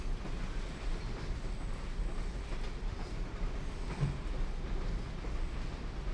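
A train running in the video game Bendy Dark Revival gives a steady, loud rumble that fills the clip without break, heavy in low-end noise, with no speech over it.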